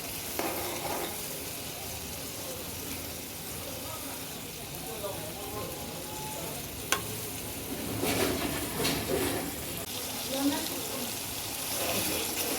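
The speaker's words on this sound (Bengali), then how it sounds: "মাছ ভুনার মশলাটা আমার কষানো প্রায় শেষ বন্ধুরা" Masala and tomato for a Bengali fish curry fry in oil with a soft, continuous sizzle, while occasional scraping stirs rise and fall and a voice talks faintly underneath.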